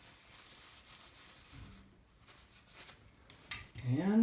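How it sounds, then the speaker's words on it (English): A cloth rubs and wipes across the underside of an RC monster truck's electronic speed controller, a soft close scrubbing that ends in louder handling noises and a brief squeak. "Just wipe down the bottom of the ESC"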